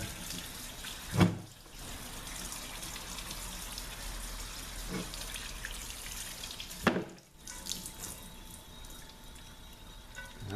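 Fluid draining from a Mercedes 722.9 transmission valve body during an overhaul, a steady thin trickle and patter of dripping liquid heard close up, with a couple of brief louder splashes or clunks.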